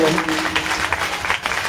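Audience clapping together for the guru at a Shiv Mahapuran katha, a dense steady wash of hands lasting the whole moment, with a voice talking over it at the start.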